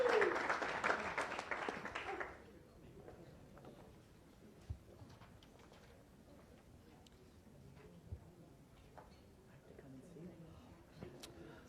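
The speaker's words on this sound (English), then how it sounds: "We should have a round of applause." Applause from the audience at a Rotary Club weekly meeting in Las Vegas, thanking the fundraising committee: a short, fairly loud burst of clapping for about two seconds that quickly dies away into quiet room noise.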